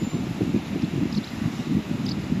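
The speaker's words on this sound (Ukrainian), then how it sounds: "І вітер ще досить сильний." Steady, broad wind roar buffeting outdoors on a stormy seashore at Obzor, Bulgaria, low and continuous with gusty rumble throughout, no voices.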